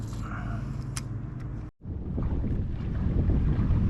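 Strong wind roars and buffets the microphone out on the water while kayaking, a loud, steady rushing broken by one brief drop near the middle.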